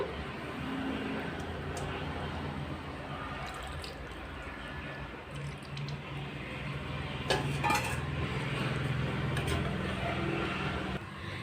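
A spoon stirs fish curry in a metal pot, giving soft, steady scraping and wet squelching clinks throughout, with a few brighter metallic taps near the end, no talking.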